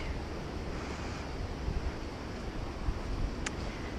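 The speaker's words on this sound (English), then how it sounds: "The creek running along the edge." Creek water runs steadily beside a low, swampy wooded section of a Pennsylvania trail, a constant broadband rush with some wind noise and no voices.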